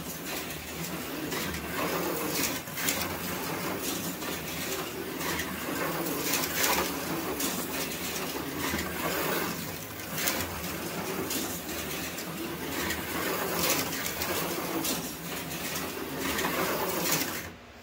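A toy car runs along a plastic polycar track set on a plastic table, giving a continuous busy rattling whir that stays fairly even and close for the whole stretch.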